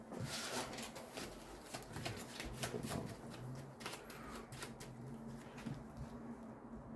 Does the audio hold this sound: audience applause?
no